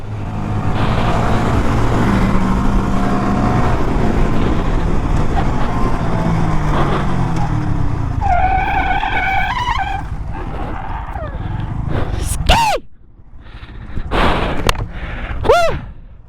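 A mini bike engine pulls hard in fifth gear, a loud, steady drone with rising pitch that carries for several seconds before easing off, with a few sharp whistling sweeps toward the end.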